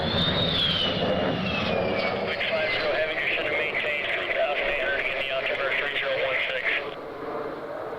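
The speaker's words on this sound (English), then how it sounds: "As promised, here's your F-111." An F-111 jet roars steadily and loudly throughout, a rising then falling whine sweeping over the broad engine noise, with radio chatter mixed in and a slight drop in level near the end.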